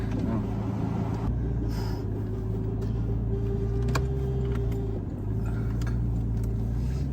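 A Porsche 911 used as a taxi cruises along with a steady low engine hum and road rumble inside the cabin, a faint click or two, while people chat over it.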